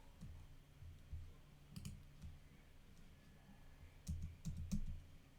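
A computer keyboard gives faint, scattered clicks, with a brief cluster of keystrokes near the start and a denser burst of taps toward the end, over a quiet room hum with no talking.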